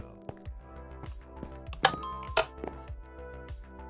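Video game doorbell chimes ringing in a Minecraft-style survival world, two bright ding tones standing out over a busy background of game sounds and music.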